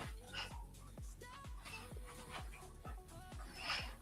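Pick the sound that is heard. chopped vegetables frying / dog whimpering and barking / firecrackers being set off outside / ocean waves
dog whimpering and barking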